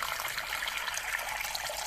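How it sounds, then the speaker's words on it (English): Steady rush of tap water pouring into a pot coated with hardened candy sugar, a close, continuous splashing hiss with no voices. "the trick to getting the pot clean is simply to add loads of water"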